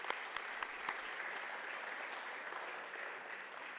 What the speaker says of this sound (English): Once again, a big round of applause for wrestling.